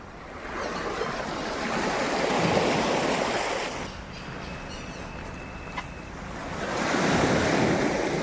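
Ocean surf rolls in and recedes in broad swells, loud and close, with wind buffeting the microphone; no voices.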